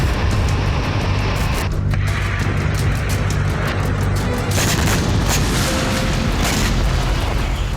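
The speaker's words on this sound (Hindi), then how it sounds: "हूती की दूसरी मिसाइल जहाज के डेक पर गिरी।" A missile strike hits the deck of an oil tanker in the Gulf of Aden, heard as heavy booms and blasts within a continuous loud roar, with sharp impacts near the middle and end.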